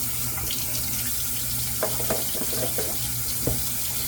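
Tap water running steadily to wet a shaving brush, a constant close splashing hiss with a few brief clicks and taps over it.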